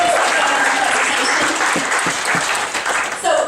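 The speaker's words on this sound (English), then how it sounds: "Everybody give Kiara a round of applause" Audience applause fills a speech event, a dense burst of clapping from a room full of people, loud and steady throughout, easing slightly near the end.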